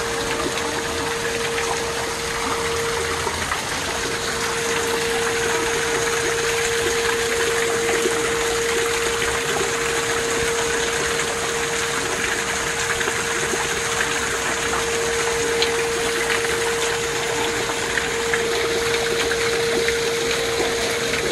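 Water from an indoor waterfall in a garden dome splashes and rushes continuously, a steady broadband wash with a faint constant hum underneath, no voices.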